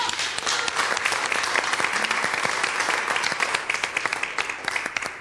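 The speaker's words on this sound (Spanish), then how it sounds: "Un aplauso para Caitro." Audience at a show honoring Peruvian cajón musicians applauds the percussionist Caitro with dense, continuous clapping that stays loud and even throughout, with faint voices beneath.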